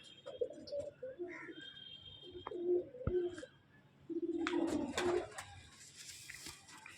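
Pigeons coo in a loft, several soft rolling coos rising and falling in short bouts, with faint chirps, a sharp knock and some rustling around them.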